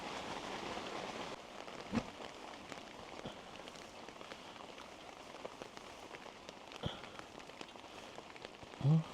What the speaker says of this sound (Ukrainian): Іде дощ, не можу ближче підійти, бо намочив мікрофони.